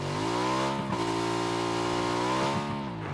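Motorcycle engine in the PUBG video game revving steadily at close range, a sustained droning whine with brief dips in pitch, loud and alone.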